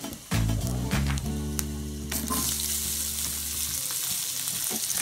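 Onions hitting hot oil in a pan, with a sharp clatter followed by a steady, close sizzle and faint stirring sounds that continue under a low hum.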